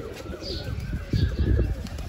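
Pigeons kept by a pigeon fancier coo in soft, repeated throaty calls close by during rainy weather, over low background rustle.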